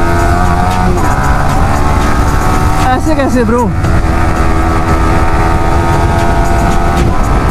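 Pulsar 220 and Yamaha R15 V3 motorcycles racing on a street, a loud, continuous engine roar close by with a brief rising-and-falling whine in the middle, while someone speaks Hindi over it.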